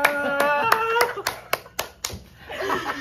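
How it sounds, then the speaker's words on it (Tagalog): Several sharp, separate hand claps ring out at uneven intervals, spacing out as they go, with people chatting and laughing around them. "Isang palakpak!"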